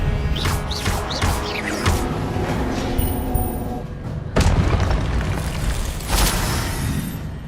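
A Confringo blasting spell explodes in the Hogwarts Legacy video game, heavy booming bursts over loud rumbling combat noise, with two big detonations in the second half.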